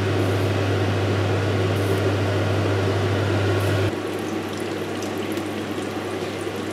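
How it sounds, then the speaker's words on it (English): Sweet potato pieces deep frying in hot oil for a Taiwanese hot toffee dessert, a dense steady sizzle and bubbling hiss over a low hum that cuts out partway, close and unbroken, with no voices. "Okay, then you just leave them to deep fry them to golden brown, go to crispy, okay?"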